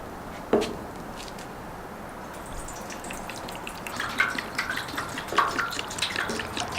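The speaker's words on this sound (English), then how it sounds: "And so now it's time to pour the metal prep in." Metal prep liquid is poured into a gas tank for a 240, giving a close gurgling, splashing trickle. A sharp clunk comes early on, and the pour swells into heavier glugs and drips near the end.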